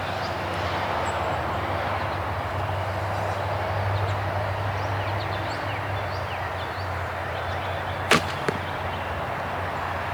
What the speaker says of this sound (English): you can hear some arrow noise when you're drawing it